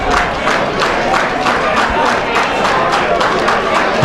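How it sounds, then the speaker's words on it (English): Wrestling crowd at a Motor City Rumble Royale event cheering and chanting loudly, a dense roaring mass of voices with rhythmic pulses of shouts and claps repeating roughly every half second throughout. "This crowd getting behind Matt Cross."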